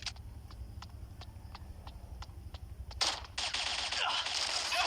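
Gunfire in the mobile shooter game Bullet Angel: a steady run of evenly spaced single shots, then a dense, loud automatic burst that fills the last couple of seconds.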